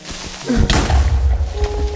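A creeper exploding in Minecraft gives a single short, punchy thud and boom, close and loud, followed by a brief low rumble.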